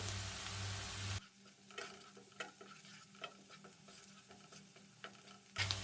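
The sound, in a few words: onion being sautéed in a pan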